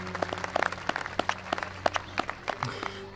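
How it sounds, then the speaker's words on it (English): Crowd cheering and applause from the Destroy All Humans video game, scattered claps and cheers over a steady low hum, moderately loud throughout. "Crowd cheers."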